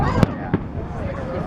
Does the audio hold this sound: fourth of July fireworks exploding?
yes